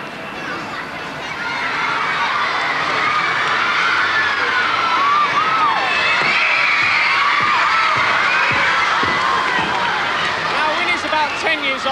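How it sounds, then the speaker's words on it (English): Audience at a killer whale show at Windsor in 1986 roars with loud, sustained crowd noise, shouting children and cheering, building after a quiet start and staying dense throughout; clear applause is hard to pick out. "So get ready to start applauding."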